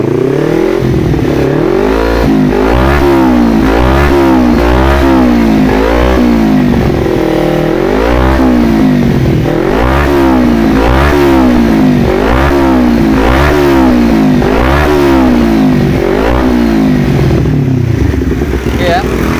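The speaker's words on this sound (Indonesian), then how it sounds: "Kita starter ya." Kawasaki Ninja 250 FI four-stroke motorcycle, a twin suffering a burnt stator coil, starts and runs with a steady, loud, pulsing idle and periodic light throttle blips throughout, close up, with faint talk underneath.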